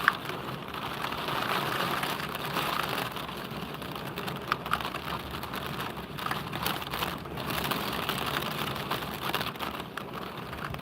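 Steady rain falls during a night storm in a continuous broadband hiss with faint pattering, constant in level and with no voices.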